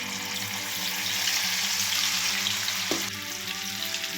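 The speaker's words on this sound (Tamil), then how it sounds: "இது மாதிரி எல்லாத்தையும் ஒரு ஈடும் பொரித்து எடுத்து வச்சுக்கோங்க" Battered cauliflower deep-frying in hot oil for gobi manchurian, a steady close sizzle and crackle throughout with a brief clink partway through.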